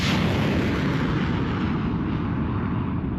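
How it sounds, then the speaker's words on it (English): American MLRS multiple launch rocket system firing on a front line, a loud continuous roaring rush of launch blast that fills the whole clip and slowly fades in the high end, with no voices. "This is the most powerful weapon on the front in action."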